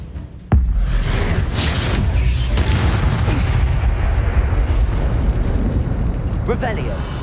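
Bombarda blasting spell going off in the Hogwarts Legacy PC game: one sudden loud blast, then a sustained roaring, rumbling wash that fills the rest of the moment.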